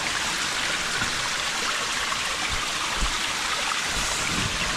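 Water rushes loudly and steadily through a cave behind a waterfall, a dense, close, continuous splashing roar with no pauses.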